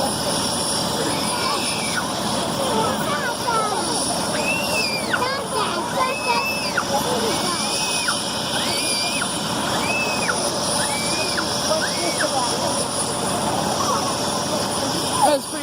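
A medical helicopter arrives at a pre-K and kindergarten vehicle day at a Virginia school. Its engine drones steadily and fairly loud throughout, while people talk and children chatter nearby.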